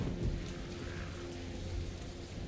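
Steady rain with low rumbling thunder during a storm in the video game Metro Last Light, a continuous dense wash with a few swelling rumbles and no voices.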